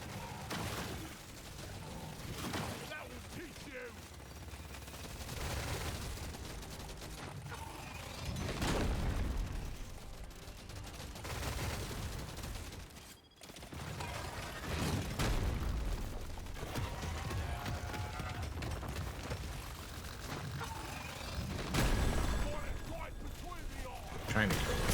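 Continuous minigun fire with explosions in the video game Deep Rock Galactic Survivor, a steady dense rattle with booming hits, mixed under someone talking.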